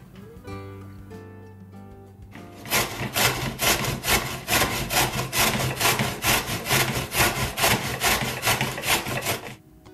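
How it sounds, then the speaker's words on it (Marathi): Peeled raw mangoes are grated on a hand grater in fast, rhythmic rasping strokes, about fifteen even scrapes in a row, close and clear after a quieter opening. "कैऱ्यांची सालं काढून टाकायची आणि मग त्या किसणीवर किसून घ्यायच्या"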